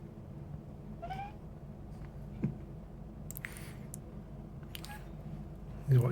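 A pet cat meows a few times outdoors, short rising calls spaced apart, with faint background noise and a brief thump near the end.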